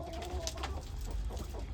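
Free-range country chickens in a breeding setup with two roosters cluck in soft, scattered bursts at moderate distance over a steady background murmur.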